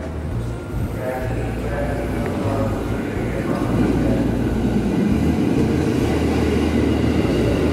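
A train rumbles steadily through Jatinegara railway station, a loud, continuous low roar with faint rattling that keeps on throughout the whole stretch.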